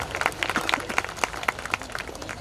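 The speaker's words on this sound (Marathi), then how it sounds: "जोरदार टाळ्या झाल्या पाहिजे या लहान मुलांच्या विजयासाठी" Clapping for the children's win at a school annual day, a small group's loose, uneven claps continuing steadily for a couple of seconds, fairly close.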